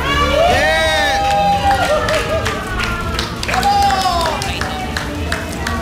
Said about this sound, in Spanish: Fuerte el aplauso de ánimo para Paquita